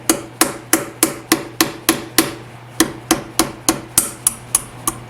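A hammer strikes a screwdriver to drive a part out during work on a Chevy S10 V8 swap: about fifteen sharp, loud metallic blows land close by in a steady rhythm, with no talk.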